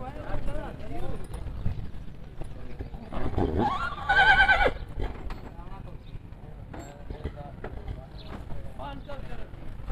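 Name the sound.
horse neighing and hooves clip-clopping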